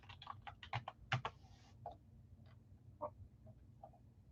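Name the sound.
typing on a computer keyboard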